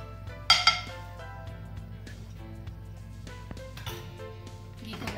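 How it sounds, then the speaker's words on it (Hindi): A spoon clinks against a pan as ghee is added for making chatpata chana namkeen, with two sharp metallic knocks near the start followed by quieter kitchen clatter and faint taps. "इसके लिए लिया है मैंने एक पैन और इसमें डाला है एक चम्मच घी।"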